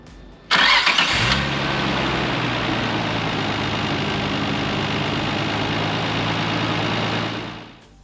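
A Nissan Skyline GT-R R32 cranks briefly and fires up after a spark plug change, then settles into a steady, loud idle that continues close by for several seconds before fading near the end.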